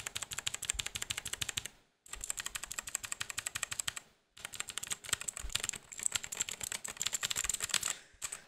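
Rapid, steady clacking of keys on a Gamdias Hebe M1 mechanical keyboard with proprietary linear switches, typed in bursts separated by two short pauses, close and fairly loud.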